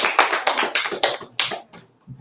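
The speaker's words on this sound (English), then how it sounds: "Round of applause" Small audience clapping at a bookstore author event, a short burst of distinct, close claps that thins out and stops within about two seconds.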